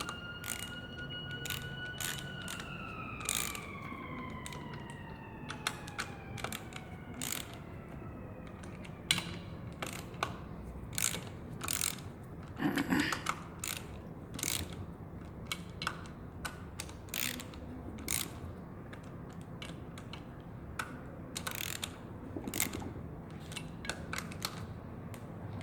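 A hand ratchet clicks in quick repeated bursts while tightening bolts on a DQ500 AWD to K-series adapter kit, crisp and close in a quiet workshop, with brief pauses between runs.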